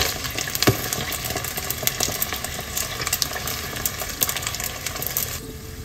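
Pork skin chicharon, Filipino style, frying in hot oil while being stirred, a steady dense sizzle and crackle with occasional scrapes and pops, close and loud throughout with no talking.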